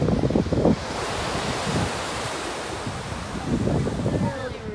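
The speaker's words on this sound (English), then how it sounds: "And waves are crashing." Ocean waves break and wash steadily onto a windy beach under a constant roar of wind buffeting the microphone, with muffled speech-like sounds at the start and again later.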